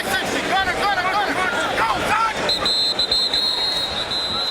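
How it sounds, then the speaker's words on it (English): A referee's whistle at a CFL football game between the BC Lions and Montreal Alouettes sounds as a sustained shrill tone in the second half, over crowd noise and commentators talking. "We have a whistle."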